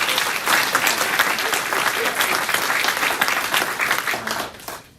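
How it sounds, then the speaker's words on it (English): Loud, close applause from residents at a retirement community thanking the dining room staff, a thick burst of clapping that holds for several seconds and then fades out. "we need to give them a round of applause"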